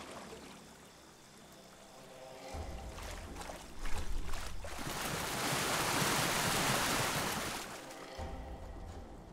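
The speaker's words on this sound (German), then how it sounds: "wir schwimmen jetzt erstmal hier den Fluss ein ganzes Stück entlang" Water swishes and splashes as a character swims a long stretch along a river in a survival game, rising into a steady close rush of churning water in the middle before easing off again.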